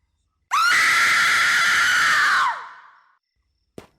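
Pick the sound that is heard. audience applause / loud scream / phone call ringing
loud scream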